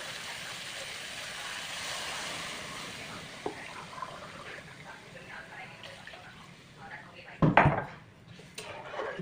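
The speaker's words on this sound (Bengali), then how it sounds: "ভালো করে মিশিয়ে নিই যতক্ষণ না জলটা ফুটে আসবে" Water is stirred in a pot for upma, making soft swishing and scraping for several seconds, then a sharp clatter of a utensil against the metal near the end, with a faint background hum.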